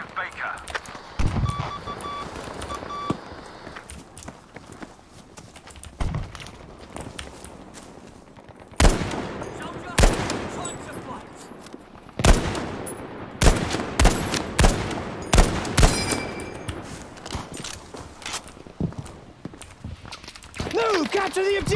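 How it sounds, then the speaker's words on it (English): Battlefield V Breakthrough match on the Arras map, with bursts of machine gun and rifle fire of varying distance, some loud and near, amid running footsteps and shouted in-game voice lines. "Machine gun in the area!"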